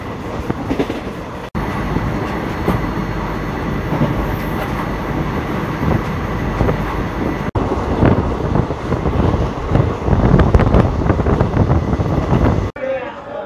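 The 18047 Amravati Express runs through the night, heard from the open carriage door: a loud, continuous rumble and rhythmic clatter of wheels on rails, briefly cut twice, with the roar swelling toward the end.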